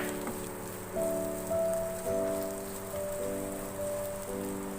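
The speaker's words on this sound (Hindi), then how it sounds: "एक मिनट के लिए इनको फ्राई करेंगे।" Chopped vegetables, including carrot and chilli, fry in a pan for a noodle dish, making a soft, continuous sizzle and crackle like rain. A few faint tonal notes sound beneath it, and there is no talking.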